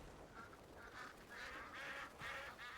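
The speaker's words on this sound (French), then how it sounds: "Oh, les canards." Ducks in the video game Crimson Desert give a string of nasal, honking quacks that build over a few seconds against a constant background hiss, with no talking.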